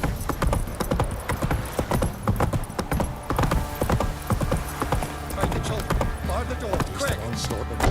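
Roach, the horse in The Witcher 3, gallops with a loud, quick, steady beat of hoofs that runs without a break, while a voice speaks briefly over the top.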